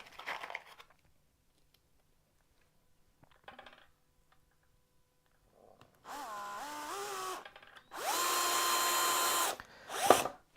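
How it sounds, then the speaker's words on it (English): An electric screwdriver drives screws into fountain table parts in a short burst followed by a longer, louder whirring run, with quieter handling clatter and a few taps between them. "helps if the screwdriver's set to screw rather than unscrew"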